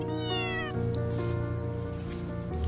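A cat stranded high in a 10-meter tree meows repeatedly in long, drawn-out cries, fairly close and clear, with no talking over it.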